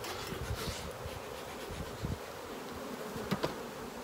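Saskatraz honey bees buzz steadily around a hive with a filled upper super, a dense continuous drone with a few louder passes close by.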